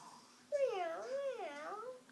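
A baby imitates a cat with a single drawn-out, wavering meow, high and sing-song, close and fairly soft against a quiet room.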